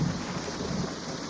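Heavy cartoon rain with a thunder-like rumble, a continuous dense low roar with steady hiss, loud and unbroken throughout.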